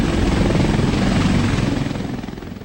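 A military helicopter at Tirana airport thunders close by with a steady, loud rotor and engine drone that eases slightly toward the end, no voices present.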